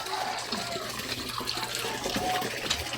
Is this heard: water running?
yes